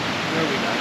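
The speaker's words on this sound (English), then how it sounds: "We're just parked at Triberg Waterfall. We can hear it." Triberg Waterfall roaring, a steady, dense broadband rush heard at a moderate distance without a break through the brief moment.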